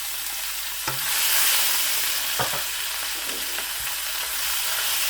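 Ginger paste and cumin seeds sizzle in hot oil as they are stirred, a steady broad frying hiss with a couple of sharp spoon scrapes against the pan, close and fairly loud with no one speaking.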